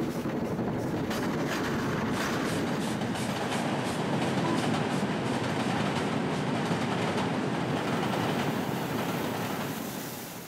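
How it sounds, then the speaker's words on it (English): A steam train runs on the Mallaig line, the Road to the Isles, in 1985, heard from the cab as a loud, continuous rumble with steady rhythmic exhaust chuffs and rail clatter throughout. "Our much-photographed train departs promptly at 10:15 on the so-called Road to the Isles."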